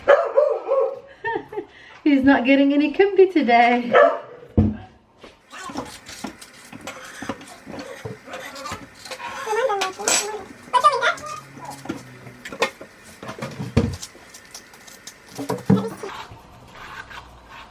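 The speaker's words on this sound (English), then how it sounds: "Wow, our dog is upset." An upset dog barks and whimpers in a kitchen during Lebanese cooking, with sharp yips and whines scattered across the clip, near and fairly loud, mixed with someone talking.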